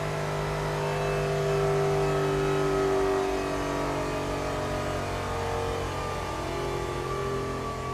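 A supercharged Ford 4.6-liter aluminum V8 runs on a dyno with a loud, steady drone and a slight rise and fall in pitch, continuous for several seconds with no talk.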